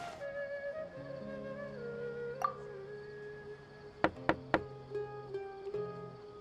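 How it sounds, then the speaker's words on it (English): Three quick knocks on a door in a video game, sharp and close together, heard over soft, sustained background game music with no talking. "Let's try knocking."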